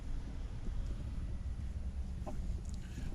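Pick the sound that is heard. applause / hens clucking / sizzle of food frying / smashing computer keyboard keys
hens clucking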